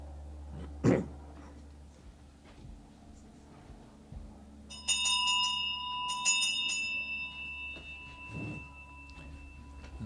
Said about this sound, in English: David Warhurst has run the lunch bell again.